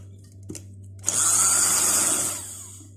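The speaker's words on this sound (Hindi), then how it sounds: "बस हमने डबल सिलाई लगा ली बाजू की।" After a small click, a sewing machine runs one continuous whirring burst of about a second, stitching the double-folded sleeve seam of a simple qameez. The motor then winds down to quiet, and no one speaks.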